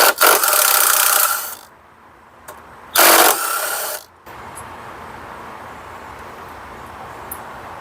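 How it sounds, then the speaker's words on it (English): Work on removing the power steering line on a 1988-91 Honda Civic: two close bursts of rough scraping and ratcheting tool noise, then quiet background hum. "let's remove the power steering line"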